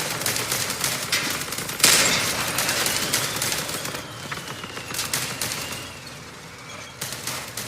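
Sustained automatic gunfire from a vehicle's machine guns in the combat game Crossout, loud and continuous rattling bursts with a sharp crack near the two-second mark and a brief lull before firing resumes.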